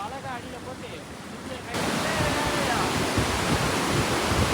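A rural Sri Lankan waterfall pours down from above into a channel, a steady loud broadband rush that swells suddenly partway through and holds as a continuous roar.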